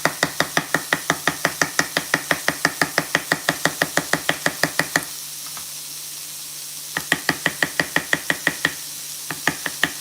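A knife chops food on a board while chorizo sausage pasta cooks, rapid, even, close strikes in two long runs with a pause between, over a faint sizzle.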